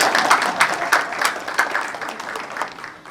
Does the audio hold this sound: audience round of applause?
yes